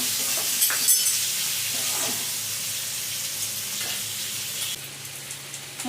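Boiled potato is stirred together with onions in a frying pan, giving a soft continuous sizzle with occasional scraping strokes at a moderate, fairly close level.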